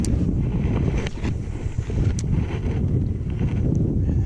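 Strong wind buffets an outdoor microphone while bass fishing from a boat. The roar is loud, steady and continuous, with gusty rumbling and no talking.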